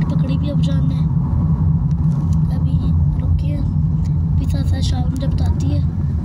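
A car's engine gives a low, steady rumble from inside the cabin as it picks up speed, continuous and fairly loud, with someone talking over it.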